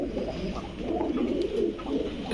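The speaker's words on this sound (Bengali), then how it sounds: "খাঁচার ভিতরে আরেকটা কবুতর আমরা ছাড়ছি" Low, throaty cooing of a pigeon in a cage rolls on continuously at close range, a soft burbling murmur with no talking.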